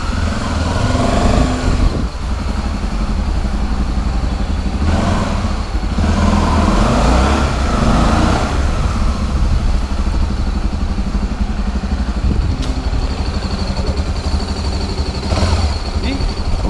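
A Honda XRE 300 motorcycle engine runs steadily at close range, a continuous low rumble with a few brief surges, while someone talks over it.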